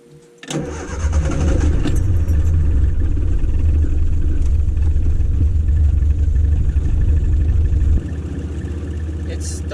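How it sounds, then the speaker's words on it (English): A Triumph Spitfire's engine, fitted with a new distributor, cranks and catches after a short pause, then settles into a loud, steady running note close by, with a slight drop in level near the end. "let's do this first drive in the Spitfire with the new distributor."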